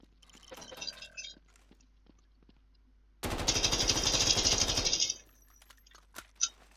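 Sustained automatic gunfire from a weapon in the video game Garry's Mod, a dense loud burst of about two seconds after quieter scattered clicks and handling noises, with a couple of sharp clicks afterward.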